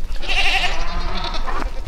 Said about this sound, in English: Are you goats all back?